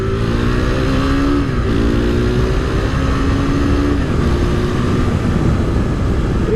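A 2017 KTM RC390 single-cylinder motorcycle with a side-mounted exhaust drones loudly and steadily on the road. Its engine pitch climbs and resets through a couple of gear changes.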